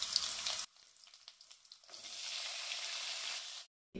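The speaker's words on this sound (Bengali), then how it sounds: "আলুর সাথে সাথে পেঁয়াজকলিটা হালকা করে নেড়ে নেব।" Potatoes and spring onions frying in mustard oil in a kadai as they are stirred, giving a bright hissing sizzle that drops away briefly, returns steadily, then cuts off.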